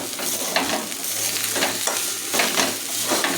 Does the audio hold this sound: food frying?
yes